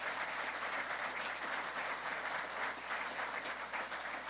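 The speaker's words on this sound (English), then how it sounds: "Give a round of applause to St. Anselm, if you would, for opening up this historic place" A crowd at a political breakfast event applauds St. Anselm, producing a sustained, dense round of clapping that stays steady and fairly loud, with no voices breaking through.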